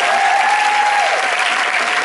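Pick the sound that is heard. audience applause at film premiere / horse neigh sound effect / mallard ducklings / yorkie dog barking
audience applause at film premiere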